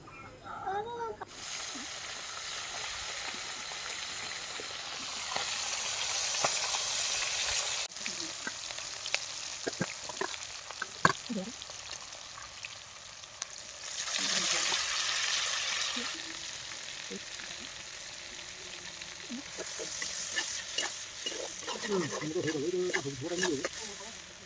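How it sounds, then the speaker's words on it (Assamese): Fish pieces frying in a pan give a steady broadband sizzle with occasional stirring clatter, close and fairly loud, with brief voice sounds in places. "এইফালে আকৌ মাছকেইডোখৰো হাফ ফ্ৰাই হ'লগৈ আৰু এইফালে মাছখিনি ফ্ৰাই কৰি বাচন এটাত এনেদৰে উলিয়াই থৈ দিছোঁ"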